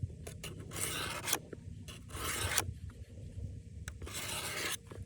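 A Case Camp knife blade is drawn back across a 600 grit stone like a strop, making three or four rasping, scraping strokes that come close together, each about a second long, with short pauses between them.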